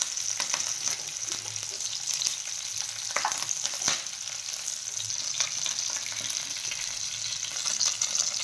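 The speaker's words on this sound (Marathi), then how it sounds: "मी इथे 7-8 लसूण पाकळ्या आणि 5-6 मिरची घेतलेली आहे। ती आपल्याला तेलामध्ये छान असे तळून घ्यायची आहे" Garlic cloves and green chillies fry in oil with a steady, close sizzle and crackle, a few sharper pops and light stirring scrapes rising above it, with no talking.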